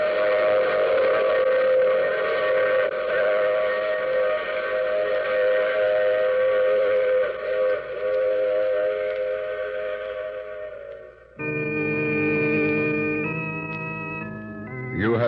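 A steam-style train whistle on a radio drama blows long and loud with sustained harmonic tones, then changes to a higher multi-tone blast near the end, with a rumbling rail-car bed beneath and no speech.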